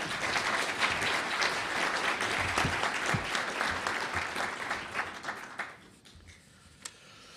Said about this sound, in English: Thank you very much for clapping before I started to speak.